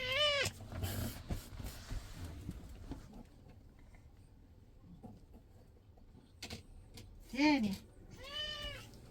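A cat meows nearby outdoors at a camper stop in Portugal, giving a few drawn-out rising calls at the start and end, while someone speaks softly and coaxes it between the meows.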